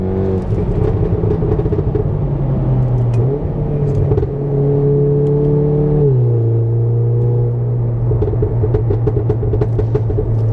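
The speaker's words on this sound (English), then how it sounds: "it's laggy like a good old fast turbo car, but when it gets into its stride" Tuned 520 hp Volkswagen Golf R Mk7 turbo hatchback accelerating hard, the engine note climbing steadily through the revs with quick gear changes and a loud, continuous drone, with no talking.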